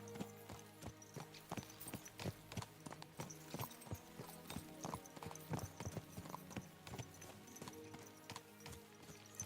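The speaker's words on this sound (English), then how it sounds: "Let's really spur these horses on, eh?" Galloping horses in the medieval game Kingdom Come: Deliverance II, hooves clip-clopping in a quick, steady rhythm throughout, fairly close and clear with no talk over them.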